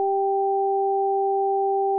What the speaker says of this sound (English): heard a single high tone in my right ear that alternated with a single low tone in the left ear